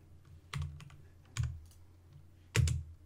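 Keystrokes on a computer keyboard as a terminal command is typed: a scattered run of light clicks with three firmer, louder key presses spaced about a second apart, close by in a quiet room.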